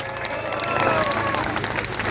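A large crowd at an outdoor French patriotic rally claps steadily, a broad roar of hands with scattered cheers and a few thin whistles rising through it, continuous and moderately loud throughout.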